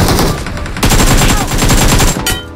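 Rapid automatic gunfire from the video game BGMI rattles in dense, loud bursts, broken by a brief gap before the shots resume and then trail off near the end.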